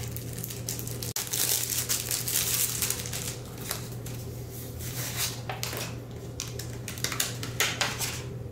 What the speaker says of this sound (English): Just going to remove your tags and your packaging.